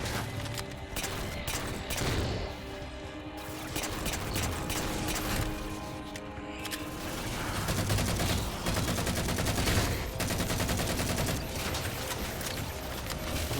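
Dense, sustained rifle fire from the Halo game Spartan Ops, rapid automatic bursts overlapping into a constant loud barrage with heavy impacts throughout.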